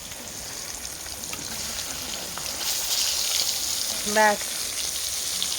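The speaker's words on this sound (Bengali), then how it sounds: "পেটিগুলো ভেজে নিই" Fish belly pieces fry in oil, giving off a soft, steady crackling sizzle at low volume. A brief voice breaks in near the end.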